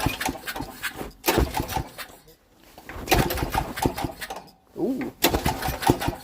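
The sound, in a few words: old go kart engine cranking, trying to start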